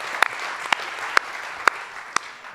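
Steady audience applause at a pitch competition event, a dense wash of clapping with a few sharper, nearer claps standing out, continuous and fairly loud with no talking.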